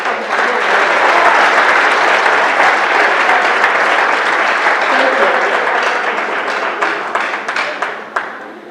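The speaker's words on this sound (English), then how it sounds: "Please clap for my mother." A large audience applauds loudly and steadily at a Lagos State ceremony with the governor, then the clapping thins into scattered claps toward the end.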